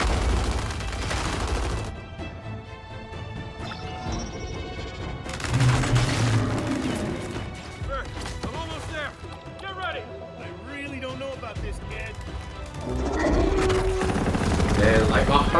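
Covering gunfire in the video game Gears 5, with bursts of automatic fire and crashing impacts mixed among voices talking over the battle, louder stretches at the start and end.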